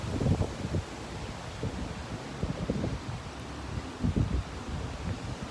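Wind blowing outdoors while fishing: gusty low buffeting and rumbles against the microphone in irregular bursts over a steady hiss, fairly close, with no talking.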